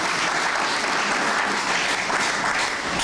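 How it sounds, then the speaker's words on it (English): An audience at a Botswana football administration event applauds, a dense, steady wash of many hands clapping at even loudness throughout, no distinct voices. "Another round of applause."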